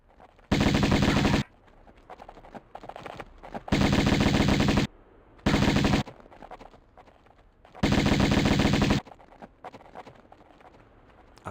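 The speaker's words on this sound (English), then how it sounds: "I loved the Uzi sound effect in this one" Uzi submachine gun fire from the Tomb Raider video game rings out in four loud rapid-fire bursts separated by short gaps, over quieter game ambience and no talk.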